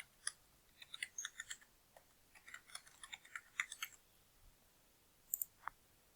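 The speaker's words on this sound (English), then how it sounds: "I'll type in the password." Someone types a password on a computer keyboard: a quiet, close run of irregular key clicks in quick bursts, a pause, then a couple of final taps.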